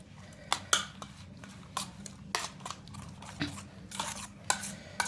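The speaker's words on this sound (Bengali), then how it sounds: "এখন ডিমটাকে এর সঙ্গে ভালো করে মিশিয়ে নিচ্ছি।" Eggs being mixed into paratha dough in a bowl, with scattered clinks, taps and soft squelching strokes at an uneven rhythm, close and fairly quiet.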